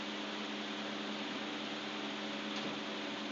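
Sweet rasgulla balls made from jackfruit seeds fry in hot oil, giving a soft, steady, hissing sizzle that holds evenly throughout without any voices.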